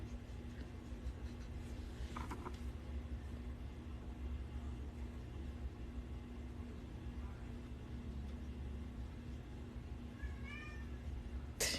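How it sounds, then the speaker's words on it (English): A cat meows and complains indoors in a few faint, brief cries, mostly near the end, over a steady low background hum. "My bad if y'all can hear a cat complaining."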